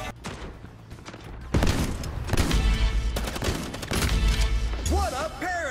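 Shotgun blasts in the futuristic first-person shooter Quantum League, loud repeated booming shots layered with dense game effects and rapid gunfire through a frantic round.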